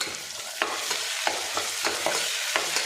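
Tomato paste sautéing in a pan for rice and lentil cooking, a loud continuous sizzle broken by regular spoon scrapes about every half second, heard up close with no talking.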